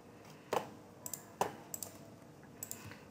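Computer keyboard keys pressed for copy-and-paste shortcuts, a handful of sharp separate clicks spread irregularly over a few seconds, quiet and close with no voice.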